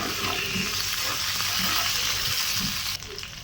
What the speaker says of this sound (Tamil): கருவேப்பிலை போட்டு தாளிச்சதுக்கப்புறம்